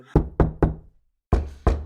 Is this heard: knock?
yes